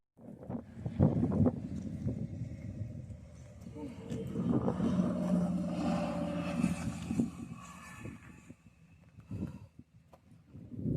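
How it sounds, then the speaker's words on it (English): Wind gusting on an Appalachian Trail mountain path near Woody Gap, buffeting the microphone with low rumbling roars that rise and fall, while a voice talks over part of it. "It is pretty windy all of a sudden"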